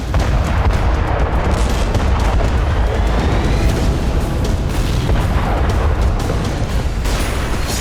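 A Russian PM-21 Grad MLRS rocket launcher is destroyed by an explosion, giving a loud, sustained roaring blast with heavy rumbling and crackling that fills the whole stretch without letup.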